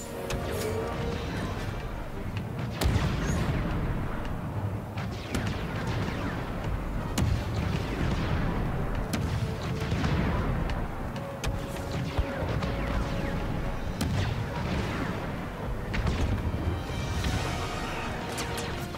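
Gunfire aimed at the player in Star Wars Battlefront II, with sharp blaster shots and impacts cracking repeatedly over a dense, rumbling battle backdrop of crashes and explosions.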